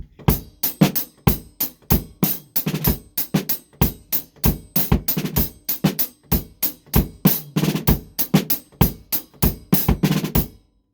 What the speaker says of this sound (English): add a drag or a 5 to it, it might sound something like this